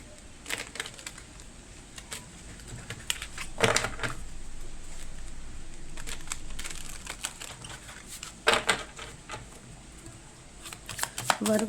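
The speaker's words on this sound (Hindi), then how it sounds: "कार्ड्स को अच्छे से शफल कर लेते हैं" Tarot cards are shuffled by hand in quick papery riffles and slaps, coming in irregular bursts with brief pauses between them, close and fairly quiet, with no talk heard.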